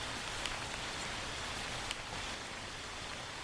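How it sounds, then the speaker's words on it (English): A field recording of rain with crickets, loaded into a sampler, gives a steady, dense hiss of falling rain at moderate level, with a couple of faint drop-like ticks and no voices. "And now I'm putting the rain and crickets in my sampler."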